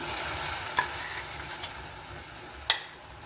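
Ground masala paste hits a hot, sizzling pan in a Mysore-style home kitchen, giving a steady broadband hiss with a couple of sharp spoon or pan knocks, one loud near the end.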